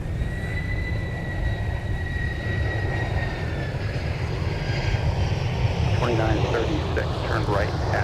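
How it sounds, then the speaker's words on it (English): A FedEx Boeing 767-300 freighter on arrival at MSP airport roars past with a loud, sustained jet engine drone and a high whine that slowly shifts in pitch, while people talk nearby. "We've got a FedEx inbound 767 from Memphis."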